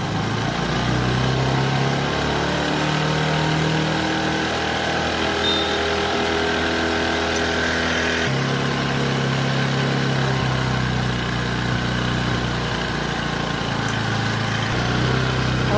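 A Bajaj Discover 100cc motorcycle engine idles during idle-speed adjustment, a loud, close, continuous putter that holds steady throughout without revving.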